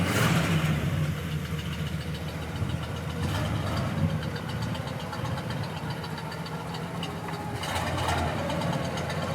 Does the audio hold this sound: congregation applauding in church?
no